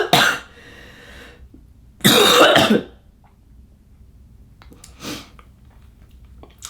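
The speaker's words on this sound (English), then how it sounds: "I'm gonna leave that cough in there" Several coughs from a woman five days after a vaginal hysterectomy. There are two distinct bursts, the second longer and stronger, then a faint short one, with quiet between them and no talking.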